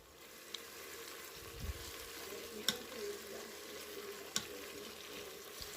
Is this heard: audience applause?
no